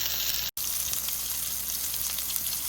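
Sirloin steak, already cooked sous vide, searing in a hot pan, a steady close sizzle that fills the clip with one brief dropout near the start.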